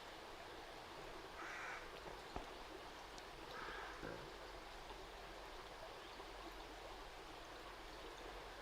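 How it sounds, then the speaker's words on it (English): A stream flows steadily in a quiet spot along a ride through the Tamar Valley, a constant soft rush with a couple of distant crow caws rising briefly above it. "I can relax and just enjoy the sound of the water"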